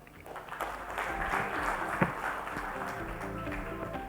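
Audience at a Rotary presidential address breaking into applause, with clapping building in the first second and holding steady, one sharper clap near the middle.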